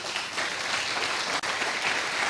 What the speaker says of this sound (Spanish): Le puede dar un aplauso al Rey de Reyes.